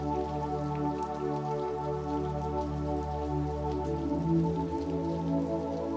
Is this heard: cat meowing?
no